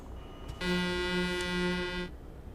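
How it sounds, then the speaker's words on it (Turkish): A loud sustained truck horn from an Arab-style horn mod on a truck in Euro Truck Simulator 2, blaring as one steady, rich, multi-tone chord for about a second and a half, then cutting off cleanly. "Arap kornayı TBP'ye uyarlamışlar"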